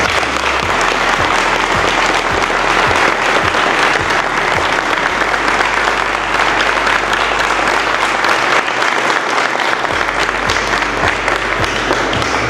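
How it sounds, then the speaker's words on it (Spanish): A church congregation gives a group a sustained round of applause, loud dense clapping that fills the room steadily for over twelve seconds, with a low hum underneath. "yo quisiera que regaláramos un aplauso a este grupo que ha participado"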